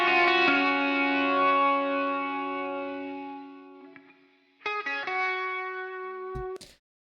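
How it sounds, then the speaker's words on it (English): Electric lead guitar with EQ boosting the top end, bright sustained notes ringing out and fading, then a second phrase of chords that cuts off abruptly with a brief pick scrape. "on this lead guitar, we wanted it to be a little more sparkly"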